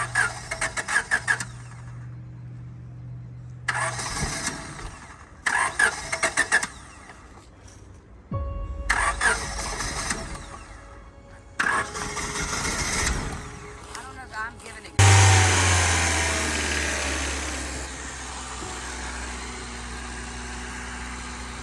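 A 1997 Honda Civic hatchback engine, smoking from the block, cranks in several starting attempts before catching and running with a loud, rough rev at close range, while people talk between attempts.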